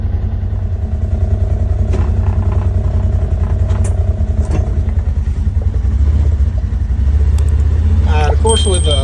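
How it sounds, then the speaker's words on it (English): A Polaris Ranger utility vehicle driven around a dealer lot, its engine running with a steady low throbbing rumble and some rattling clatter, loud and close throughout. "let's ride this thing around the lot"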